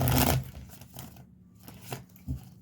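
A deck of tarot cards gets a brisk shuffle: a loud riffling burst at the start, then softer, scattered rustles and taps of the cards.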